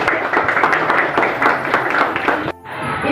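A classroom of students claps together for a classmate in a brisk burst of applause that cuts off sharply near the end, leaving quieter room sound.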